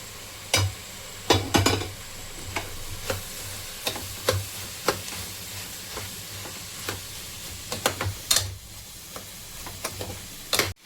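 Paneer is being stirred and fried with spices in a pan for paneer pulav, with sharp irregular scraping clinks of a spoon against the pan over a low steady sizzle.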